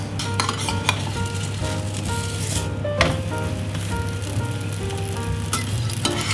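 Homemade pizza crust cooks in a pan over medium-low heat, giving a steady close sizzle with a low hum beneath and a few light clinks and taps of a utensil against the pan.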